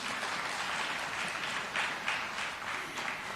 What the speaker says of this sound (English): Let us welcome her with a warm clap